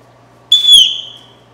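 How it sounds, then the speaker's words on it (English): A single shrill finger whistle, loud and close, starting sharply and then trailing off with a slight drop in pitch over about a second. "So now your fingers complete the whistle."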